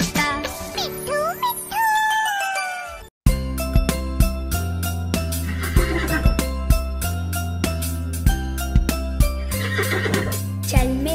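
A horse whinnies in a children's Hindi nursery rhyme, then a bright, steady music track begins with a regular clip-clop hoof beat keeping time under it.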